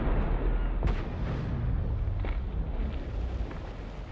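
Base collapsing in a chain of explosions in the video game Just Cause 3 after its reactors are destroyed, a continuous loud rumbling roar with one sharp blast near the start and scattered smaller bursts throughout.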